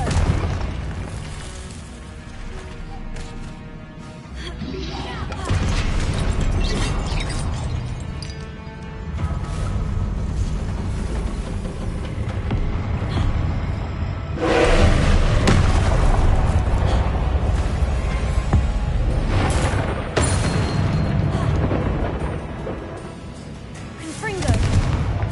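Confringo blasting spell explosions in the video game Hogwarts Legacy, a continuous dense barrage of booming blasts and crackling impacts with surging peaks, loud and close throughout.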